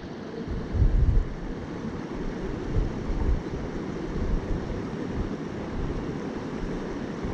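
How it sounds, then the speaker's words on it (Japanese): Strong wind gusting by a river while ayu fishing in shallow riffles, a steady loud rush with heavier low buffeting swells near the start and around the middle, no voices. "かなり風が強いです。"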